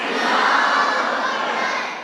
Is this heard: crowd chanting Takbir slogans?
yes